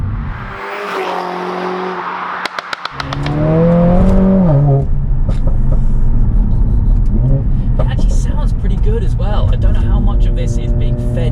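A Stage 2 Mercedes-AMG A45S making about 500 bhp, fitted with a sports exhaust and sports cat, revs and then drives off with a loud, rising engine note and a sharp burst of exhaust crackles, and the sound stays strong and sustained afterward.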